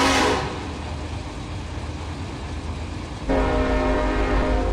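A diesel locomotive in the Run 8 train simulator rumbles along, then its K5LA air horn blasts in, a deep, loud, sustained multi-tone chord that holds to the end.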